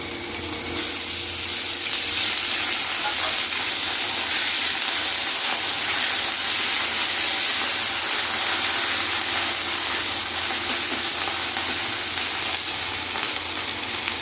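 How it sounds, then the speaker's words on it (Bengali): Fish head frying in hot oil with ginger-cumin paste for a fish-head dal, a steady loud sizzle and crackle that runs unbroken and close throughout. "মাছের মাথাটা ভাজা হয়ে গেছে এবারে এই আদা জিরা বাটাটুকু দিয়ে দেব"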